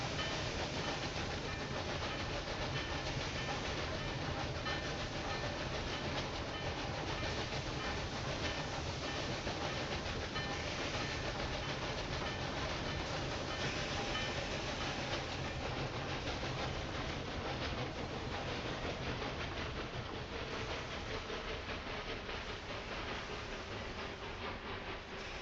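Train rolling along the rails in the Railway Empire 2 game, set in central France: a steady, continuous rumble with rail clatter, loud and unbroken throughout, no voices.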